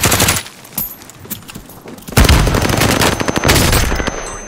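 Video game gunfire, rapid automatic bursts and overlapping shots crackling loudly and densely, a heavier barrage taking over in the second half.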